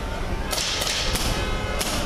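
Several sharp cracking pops from a less-lethal weapon ring out over a constant loud rumble of background noise, spaced irregularly over a couple of seconds, soft rather than booming.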